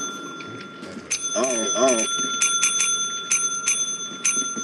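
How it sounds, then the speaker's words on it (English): A bell in the video game Lethal Company is struck repeatedly, giving about half a dozen bright, ringing dings in quick succession while players talk over them. "you gotta hit the bell"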